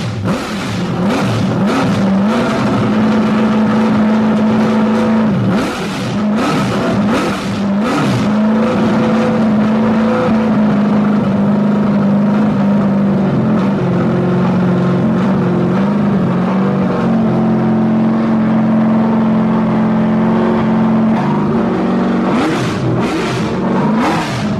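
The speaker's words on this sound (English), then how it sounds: "Can we fire it up?" Engine of a 1964 Chevy Nova late model race car on a Hamke chassis, running loud and close with continuous revving and throttle blips over a rough idle.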